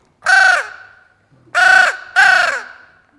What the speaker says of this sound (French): La corneille noire.